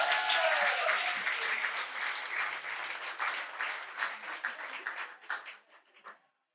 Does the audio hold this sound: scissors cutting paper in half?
no